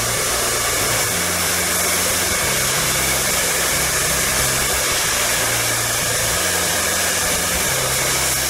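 A hair dryer or heat gun runs steadily from start to finish, warming a printed vinyl skin pressed into place; a loud, constant blowing whoosh with a low motor hum underneath and no talking.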